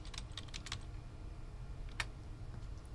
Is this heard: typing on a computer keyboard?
yes